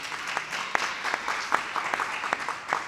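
Audience clapping at a karate press conference, a brief, fairly quiet patter of applause with individual claps audible throughout, no speech over it.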